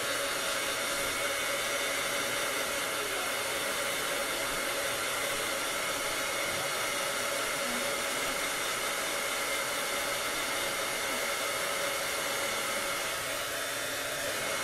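A heat tool blows continuously on wet chalk transfer ink, a steady close whooshing hiss with no pauses from start to finish.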